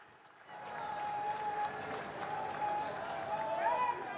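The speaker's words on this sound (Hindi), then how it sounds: "आओ जोरदार तालियां नाल उन्हां दा स्वागत करिए।" A large crowd at a public meeting in Jalandhar, Punjab, claps steadily in welcome of PM Narendra Modi. The applause is moderately loud, with whistles and crowd voices mixed in.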